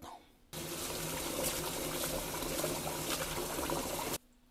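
Rice being washed in a pot or sink under running tap water, a steady splashing rush of water lasting about four seconds before cutting off, close and fairly loud, with no talking.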